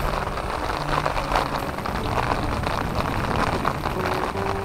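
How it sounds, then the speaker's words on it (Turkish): Steady rain falling outdoors at a lakeside pike fishing spot, a dense even hiss of drops on surfaces, close and constant with no talking. "Bayağı güzel yağmur yağıyor."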